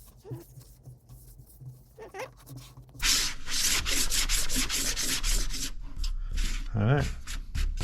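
Paste wax being rubbed onto a wooden part by hand, a quiet start that turns into a loud, fast, repeated scrubbing and rubbing close by, with brief noises mixed in near the end.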